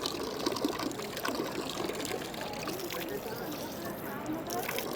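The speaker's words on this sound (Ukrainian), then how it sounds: "скрізь по місту є ось такі колонки. Це питна вода." Water runs and splashes from a public drinking fountain on a street in Milan, a steady close trickle with some irregular splatter, under faint background noise.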